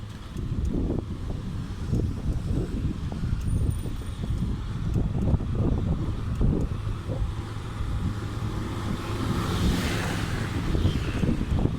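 Continuous rumbling, buffeting wind noise on the microphone, loud and uneven throughout with no voices.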